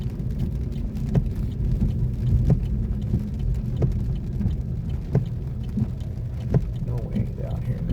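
Rain falling on a Chevy Malibu in Houston, heard from inside the car as a dense steady patter over low road rumble, with scattered louder drops ticking on the body.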